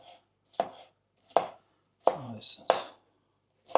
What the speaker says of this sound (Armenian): Ուրեմն հաջորդ մեզի հարկավոր է կտրատենք բալգարսկի պերեսները։